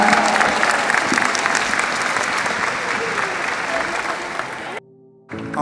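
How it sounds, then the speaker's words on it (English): A convocation crowd of teachers applauds heartily, loud continuous clapping with scattered voices for nearly five seconds before it cuts off abruptly into a brief silence. "Everyone, round of applause."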